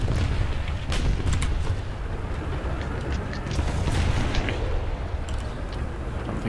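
Gunfire striking a tank in War Thunder, a steady run of booming impacts and rumbling explosions under constant engine and battle noise.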